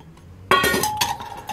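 Stainless steel Stansport mess kit pots and lids clink together after a short quiet moment, giving a burst of bright metallic rattles and taps close by.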